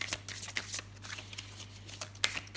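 Tarot cards being shuffled by hand for a love reading, a soft papery riffle of brisk repeated flicks, close and fairly quiet with a faint steady hum beneath.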